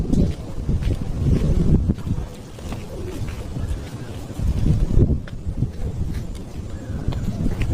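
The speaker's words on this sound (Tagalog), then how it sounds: "Tingnan natin kung gaano kalakas yung hangin mga kapatids." Gusty strong wind buffeting the microphone in loud low rumbles that swell and ease, with faint voices underneath, near pigeons.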